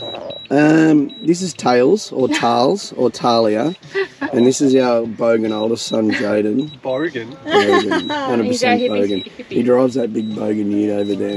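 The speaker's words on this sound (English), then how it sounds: "Sorry for the beeping." A faint, regular electronic beep repeats in the background under close, continuous conversation.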